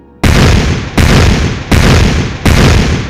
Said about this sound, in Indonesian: Bebatuan raksasa berguling ke bawah, menimbulkan suara ledakan bertubi-tubi.